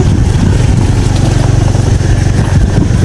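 A Honda Vario scooter carrying two riders accelerates along a slippery, muddy trail through the Halimun Salak forest, its engine droning loud and close with a steady, throbbing low rumble throughout.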